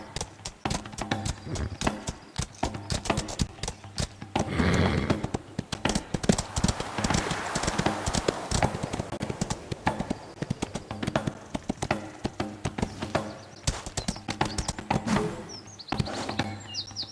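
Horse hoofbeats from the riding game Windstorm, a steady rapid clip-clop of hooves on the ground at a trot or canter, close and continuous throughout with faint birdsong behind.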